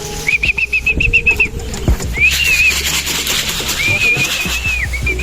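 Racing pigeons flutter and call near a loft during a fun race, with short repeated whistling notes and rising tones over rustling wing flaps and background noise, fairly close and loud.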